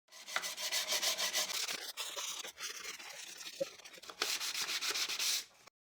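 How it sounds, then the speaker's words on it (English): Wood being sanded by hand with 100 grit sandpaper: rapid, rhythmic rasping strokes in two busy bursts with a quieter stretch between, close and fairly soft. "I'll do the sanding manually, starting with 100 grit sandpaper."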